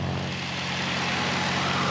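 A Spitfire's propeller engine drones steadily throughout as the plane flies through a huge vertical loop, a continuous loud roar with no voices over it.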